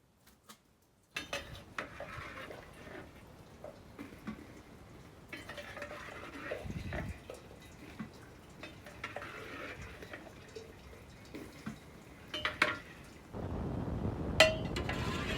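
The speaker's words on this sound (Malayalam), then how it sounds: "കഞ്ഞി വാർക്കാം" Rice gruel (kanji) poured and drained from a pot, giving irregular clinks of metal pot and lid, liquid splashing and clatter, close and fairly quiet, building to a heavier rushing pour near the end.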